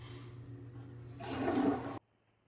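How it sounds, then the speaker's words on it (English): A toilet flushes nearby, a rushing swirl of water that swells for under a second and then cuts off abruptly into near silence, with low room hum before it. "Flush it."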